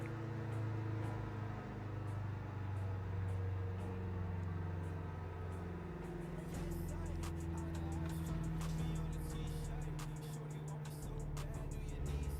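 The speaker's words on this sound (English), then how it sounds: "Is the idling of the car very loud?" A steady, low car engine idle in the video game Gran Turismo 7 hums continuously with a faint higher whine, alone and at an even level throughout.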